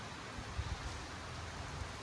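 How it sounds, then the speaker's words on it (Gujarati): Soft, steady rainfall patters as an even hiss with a few low thuds, fairly faint and with no voices. "વરસાદ એવો પડે છે જો વરસાદ ચાલુ થઈ ગયો છે"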